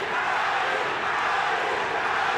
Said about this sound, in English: Pac-Man's hearing Manny, Manny from the Filipinos in the crowd who came a long way